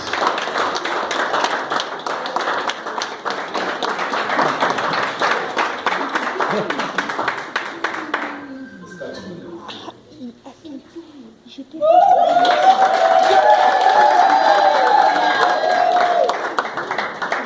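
Applause at an installation ceremony for a new president of a Congolese community association's general assembly, steady clapping for about eight seconds, then a lull and a burst of music or tones with voices over the hall.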